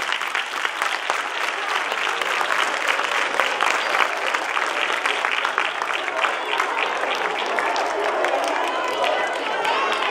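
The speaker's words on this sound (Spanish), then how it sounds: "¡Un fuerte aplauso para Tania!" A theatre audience at a stage show applauds as a musician walks on, about ten seconds of loud, sustained, dense clapping with some crowd noise and voices mixed in, staying even throughout.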